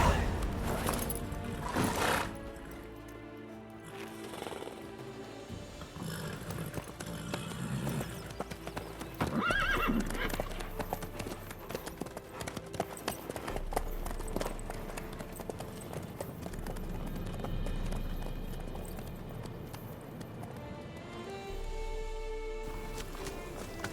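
Horse hooves clip-clop steadily in The Witcher 3, a rhythmic walking-to-trotting gait with a whinny near the start, under a game music bed and occasional ambient sounds.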